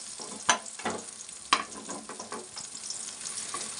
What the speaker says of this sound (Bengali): এই যে শিবাঙ্গীর আমার কুমড়ো ভাজা হয়ে গেছে